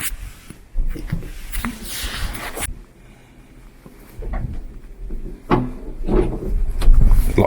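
Someone pushes and rattles a locked small wooden door in an abandoned World War 2 mustard gas factory, making several knocking, banging thuds and creaks at close range with a short pause between bursts.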